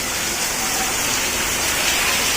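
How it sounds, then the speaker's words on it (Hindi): Heavy rain pours steadily with a dense, continuous hiss, loud and close throughout, with no voices. "तो गाइस बाहर इतनी तेज बारिश हो रही है"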